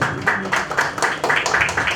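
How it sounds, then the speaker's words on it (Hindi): Audience applause at a stage talent show, rhythmic bursts of clapping from a crowd, fairly loud and steady across the whole stretch with a muddy low rumble underneath. "तो जोरदार ताली, एक बार फिर जोरदार ताली के लिए।"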